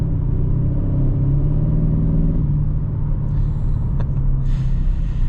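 The engine of a 2025 Kia K5 GT, with synthetic engine sound piped into the cabin, gives a steady low drone and rumble while driving. It stays even and close throughout, with no talking.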